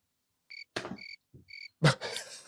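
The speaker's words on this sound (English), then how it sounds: "Crickets." A crickets chirping sound effect: short, high chirps in pulsed bursts, cut in among a few louder knocks and noises.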